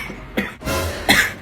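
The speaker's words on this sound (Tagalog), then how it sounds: "Parang inuubo na to" Someone coughs several times in quick succession, close and fairly loud, with rough bursts separated by short gaps.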